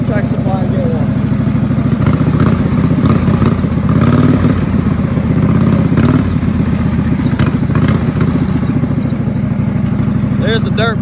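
A racing lawn mower engine roars steadily throughout the ride, with rattling, bumping clatter from rough ground and brief rises in revving; a person talks over the engine noise.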